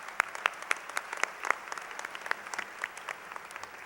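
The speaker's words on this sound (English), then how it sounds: "Let's give them a round of applause." An audience at an annual meeting claps for a scholarship student, a moderate, fairly quiet round of applause with distinct individual claps heard at a distance, no voices.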